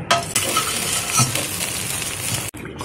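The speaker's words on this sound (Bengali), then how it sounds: "ফোড়ন ভাজা হয়ে গেছে, আমি ফোড়ন এবার রায়তার মধ্যে মিশিয়ে দিচ্ছি।" Fried mustard-seed tempering being stirred into raita in a bowl, a close, steady scraping and stirring with faint sizzle, broken by a brief pause near the end.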